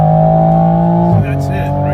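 Engine of a 2020 Toyota Supra held at a loud, steady rev with strong harmonic drone, then the pitch dips and settles near the end, close and continuous.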